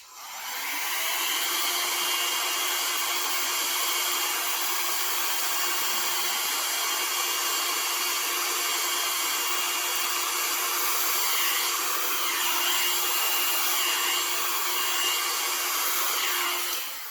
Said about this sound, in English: I used it on cool on high. And so I'm no pro at this hair dryer thing